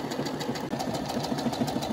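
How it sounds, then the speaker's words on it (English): A Baby Lock Verve sewing and embroidery machine stitches a design at medium speed, a close, steady mechanical whir with quick, regular needle clatter throughout. "Okay, so we got the presser foot on and then it should just sew this design."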